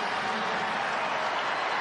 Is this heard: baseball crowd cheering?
yes